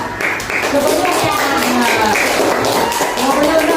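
A group of people at a university religious class claps together while voices carry over the sound, the clapping brisk and close under talk.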